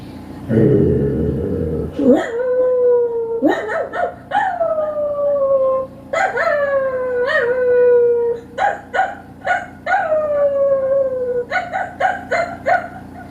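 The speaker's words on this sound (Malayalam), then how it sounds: "പിന്നെ ആരോ വന്നതുപോലെ പട്ടികൾ കുരയ്ക്കുന്നു." Dogs barking and howling, a series of loud drawn-out howls with yips and barks in repeated rising bursts, close and dominant, with a short rustle at the start.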